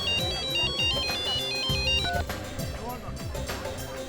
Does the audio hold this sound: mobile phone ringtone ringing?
yes